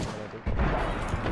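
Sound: gunfire in the video game Apex Legends

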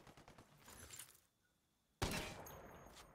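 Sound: 50 cal rifle shots in Ghost Recon Wildlands video game

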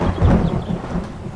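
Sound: thunderstorm in the video game 7 Days to Die

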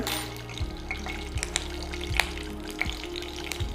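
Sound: mustard seeds spluttering in hot ghee

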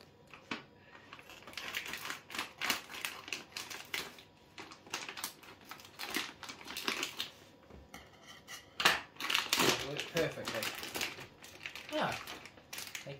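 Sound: scissors cutting open a plastic snack packet

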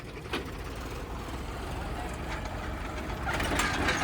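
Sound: old tractor engine started and idling

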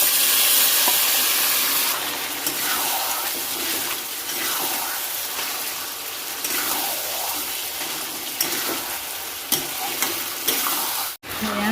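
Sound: meat frying with onions and spices

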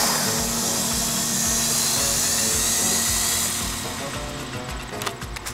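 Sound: YD 711 Avatar remote-control helicopter flying

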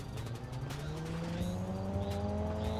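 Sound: loud car engines in the video game GTA 5

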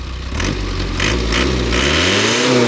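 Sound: pickup truck engine revving

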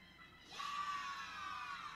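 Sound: screaming in Roblox video game

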